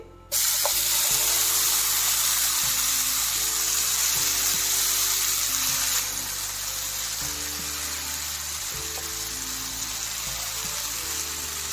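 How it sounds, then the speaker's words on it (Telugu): Thick dosa batter cooking on a pan over a low flame gives a continuous, even hiss that holds steady close by, with faint clinks now and then. "అలా వేసుకుంటే బాగా కాలుతుంది అట్టు సిమ్లోనే కాల్చుకోండి"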